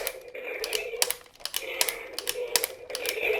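Sharp plastic clicks from a Jurassic World Stomp & Strike Tyrannosaurus rex figure's clicking mechanism, in quick irregular bursts, close and crisp, with brief pauses between them.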